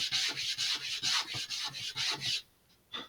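A balsa wood part for an Estes Loadstar II model rocket is hand-sanded in quick, even back-and-forth strokes, close and rasping, about a dozen rubs before a short pause and one final stroke.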